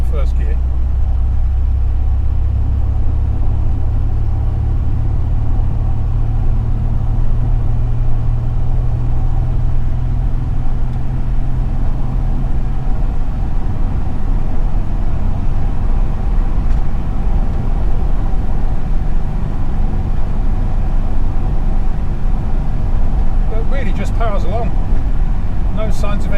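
A 1966 MGB GT engine runs continuously, a loud, steady low rumble that softens slightly partway through, with a few brief knocks near the end.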